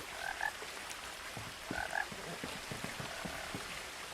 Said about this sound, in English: I hear a frog.